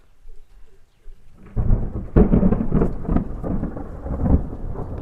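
Rumbling thunder rolls in and swells under light, steady rain, deep and loud after a quiet start, with no talking.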